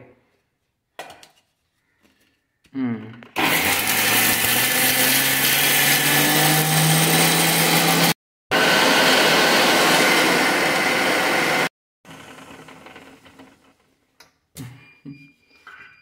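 A kitchen mixer grinder whirs loudly while grinding dal with raw, unroasted leaves for a spice powder, running in two steady bursts with a short pause between them, framed by quieter clatter before and after.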